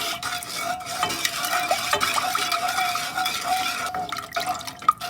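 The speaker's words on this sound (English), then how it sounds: "So you keep stirring those over low heat until the sugar dissolves." Sugar gets stirred in a pot over low heat for homemade lemonade, a spoon softly scraping and swishing through the liquid in continuous strokes, with a few light clinks and no voices.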